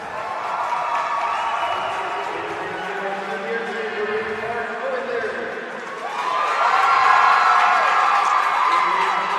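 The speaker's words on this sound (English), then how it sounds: "Great crowd on hand." A crowd at a boys' swimming championship cheers and murmurs in a large echoing natatorium as swimmers are introduced. Voices swell louder partway through, and an announcer talks over the noise.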